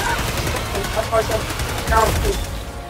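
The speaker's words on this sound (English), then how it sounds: "It's a laser rifle." A laser rifle fires in a robot-and-bug shooter video game in rapid, repeated bursts, loud and continuous, with people talking over the shots.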